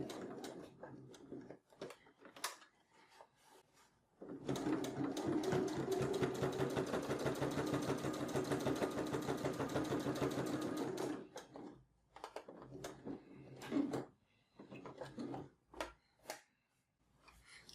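A sewing machine stitches fabric for a notebook cover, running in a steady close whir for several seconds between quieter starts and stops, with faint handling noises around it.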